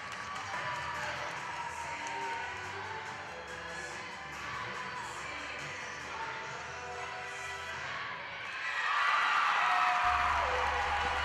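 A crowd cheering at a cheerleading contest's tie-breaking cheer-off, a steady, distant wash of voices and shouts that swells louder toward the end.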